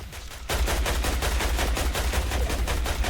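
Rapid bursts of automatic gunfire in the Fortnite video game, a dense continuous volley starting abruptly after a brief lead-in and rattling on loudly to the end, with low thumping under the shots.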